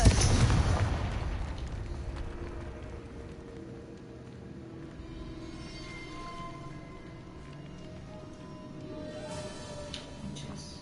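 A Confringo fire spell explodes in Hogwarts Legacy, a loud booming blast that decays into a long rumbling, crackling tail.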